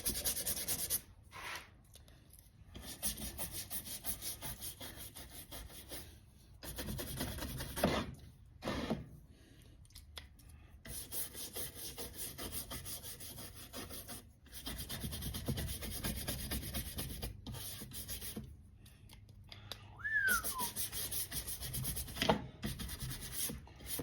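Pistol grip grooves rubbed clean with rubbing alcohol, a steady dry scrubbing and rasping broken by short pauses, close and fairly quiet throughout.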